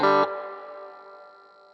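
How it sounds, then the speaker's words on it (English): A chord strummed through a Lemtone AB763 guitar amp with the reverb dwell cranked, the sharp attack quickly giving way to a long shimmering spring reverb tail that fades slowly. "So it's the tail end of the reverb."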